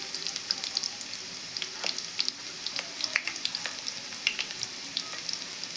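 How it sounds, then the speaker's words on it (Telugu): Tempering spices, with dried red chillies and chana dal, fry in hot oil, giving a soft continuous sizzle dotted with sharp close pops and crackles. "పోపు దినుసులు అయితే వేసానండి"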